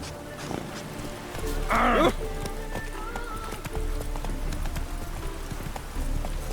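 Horse hooves from The Witcher 3 beat in a quick, even clip-clop as the mount sets off, fairly close and continuous under game ambience, with a brief voice calling out near the start.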